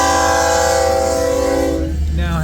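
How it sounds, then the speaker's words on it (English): An empty coal train on the line at Pacific Junction, Iowa, rolls past with a loud, sustained horn-like tone over rumbling rail noise that fades and shifts near the end. "Another empty coal drag."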